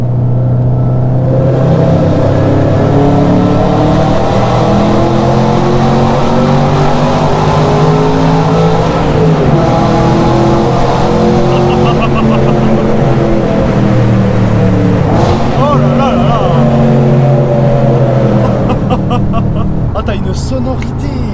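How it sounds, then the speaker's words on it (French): An Audi RS4 V8 revs hard inside a tunnel, its loud, close engine note climbing and falling through the revs for the whole stretch, echoing off the walls with a brief dip near the middle. "Allez, on arrive au tunnel avec la RS4. Là, je pense que le V8, on va l'entendre comme il faut."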